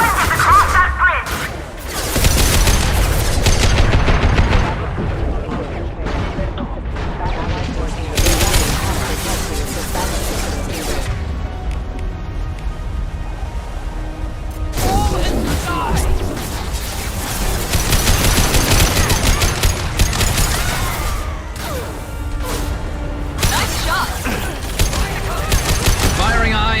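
Heavy combat gunfire in Mass Effect 2, with bursts of shots and impacts rising and falling over nearly half a minute, and voices speaking in between.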